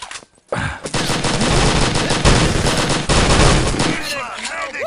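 Rapid bursts of MP40 and Thompson submachine gun fire in a Wolfenstein: Enemy Territory match, loud overlapping volleys sounding almost continuously, with brief pauses between clusters.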